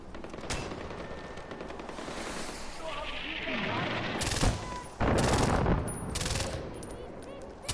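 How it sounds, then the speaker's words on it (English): Mortars fire in the video game Far Cry 4, several loud booming blasts and sharp bursts over a continuous rumble of game noise, close and heavy, with someone talking at times. "We are firing the mortars."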